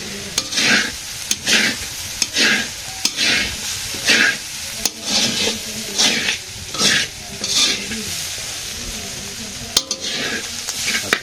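Potato bhaji is stirred and fried in a pan in a village kitchen, with rhythmic scraping strokes about once a second over a steady sizzle. The sound is close and clear, with no voices.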